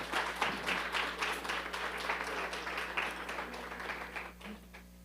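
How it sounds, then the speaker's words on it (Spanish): A church congregation applauds the Lord during a Spanish-language morning service, with dense, steady clapping filling the room for several seconds at moderate loudness. "Dele un fuerte aplauso al Señor en esta mañana"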